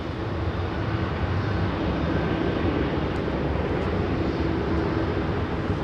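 DHL Boeing 767 freighter at London Heathrow, a broad continuous jet engine roar holding steady and loud throughout, distant but filling the air, with no talking.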